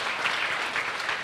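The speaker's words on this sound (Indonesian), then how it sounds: "Boleh beri tepuk tangan Bapak Ibu" Audience applause at a book talk and panel discussion, a dense, even patter of clapping sustained throughout the short stretch, fairly full and close, with no speech over it.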